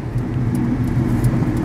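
A car engine made loud by a leaking exhaust manifold gasket drones in a steady, dense low rumble throughout, close and continuous, with no talking.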